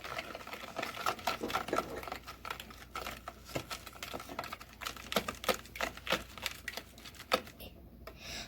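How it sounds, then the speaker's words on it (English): Rapid irregular clicking and tapping of a utensil against a bowl while mixing batter, fairly faint and close, in quick bursts with brief pauses. "Now let's go ahead and mix this together."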